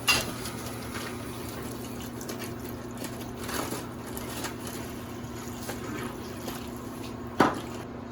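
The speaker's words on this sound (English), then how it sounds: "Get a pot, fill it halfway full of water," Spring water fills a pot for cherry wine in a soft, steady trickle with a faint hum underneath, broken by a few brief splashy bursts at the start and near the end.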